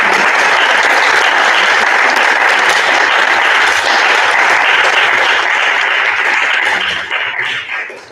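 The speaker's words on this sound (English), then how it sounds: "Let's give a round of applause." Loud, sustained clapping from an audience at a panel discussion fills the room evenly, then thins out and fades in the final second.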